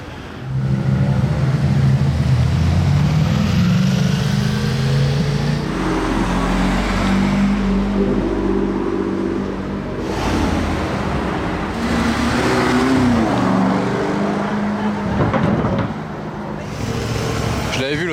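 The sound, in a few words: Ford Mustang car driving by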